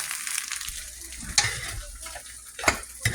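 Butter or bacon grease sizzles and crackles in a hot frying pan while eggs are cooked, a steady close hiss broken by a couple of sharper pops and clinks.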